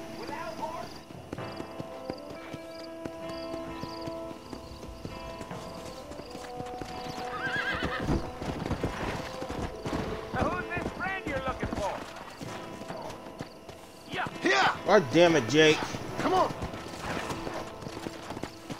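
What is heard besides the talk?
horse hooves and whinnying in video game Red Dead Redemption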